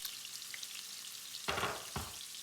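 Prawns frying in a pan with butter and chopped garlic, a steady close sizzle that swells in two brief louder bursts as the butter and garlic hit the hot fat.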